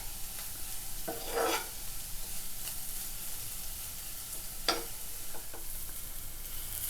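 Onions fry in a pan with a soft continuous sizzle, broken by a couple of brief stirring scrapes, faint and fairly distant throughout.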